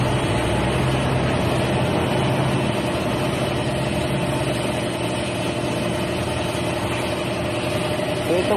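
A Honda ADV motorcycle engine idling at a steady, unbroken drone throughout, fairly loud and close, in a repair shop during fuel-injection and throttle body cleaning.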